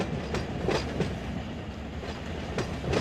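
In the Run 8 train simulator, a long freight train of coil cars, tankers and other cars rumbles past steadily, its wheels clacking over rail joints in an even rhythm with no talking.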